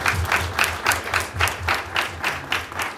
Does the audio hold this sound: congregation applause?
yes